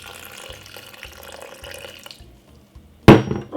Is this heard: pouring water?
yes